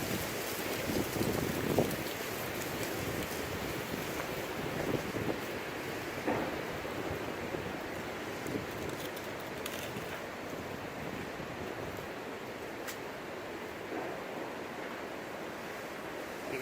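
Strong wind roars steadily during a Northern California forest wildfire in 2018, a loud continuous blustery rush with gusts and scattered crackles and knocks, no talking.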